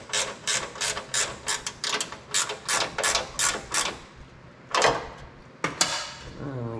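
A ratchet wrench tightens a bolt on a John Deere 116 riding mower, a close, steady series of sharp clicking strokes in even rhythm, pausing briefly before a few final louder clicks.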